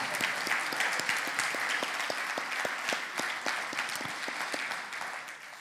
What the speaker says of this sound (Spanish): Yo quisiera darle un aplauso al Señor, pero también un aplauso a todos los servidores